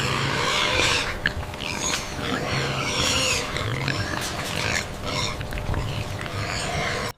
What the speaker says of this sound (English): these invasive wild boars have entered the trap